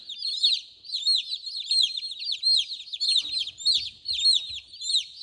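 A group of Murray McMurray hatchery chicks peep continuously in high, rapid chirps, close and lively, with faint shuffling underneath as they find spilled food.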